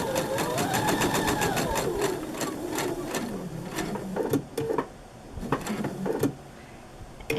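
A sewing machine stitches a quilt block seam for a Rob Peter to Pay Paul pattern, with rapid rhythmic needle clatter running steadily, then slowing into separate clicks and short bursts as the seam ends.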